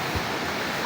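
Dibulo waterfall in Dinapigue, Isabela, pours in a continuous rushing roar of falling water, fairly close, with a voice briefly present over it.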